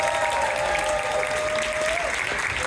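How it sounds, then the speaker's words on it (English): An audience claps at a closing panel session, a dense, even wash of applause held at a steady level from start to finish, with a faint voice faintly audible beneath it. "Please applause for them."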